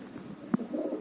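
A pigeon gives a short, soft low coo close by, a brief single call against a faint background hum.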